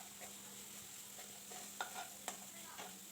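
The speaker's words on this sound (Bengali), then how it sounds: "দিয়ে মশলাটা খুব ভালো করে কষিয়ে নেব" Spice paste with cumin powder and green chilli is stirred in a pan for a yogurt chicken dish. A faint, low sizzle runs under soft scraping, with a few sharp clicks of the spoon against the pan.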